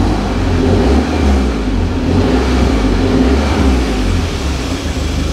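Audi S1 engine running after a complete wiring loom replacement, a steady, loud, close idle with a dense low rumble and slight throttle variation, no talk over it.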